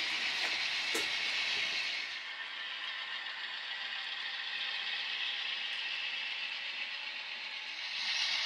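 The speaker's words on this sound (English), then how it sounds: "As the train exits the loop in Mount Marvel, it approaches Nauer's yard." An HO scale model train rolls toward the yard on a layout, giving a continuous faint rattling rumble with a soft hiss, steady and fairly distant throughout, with a brief clack early on.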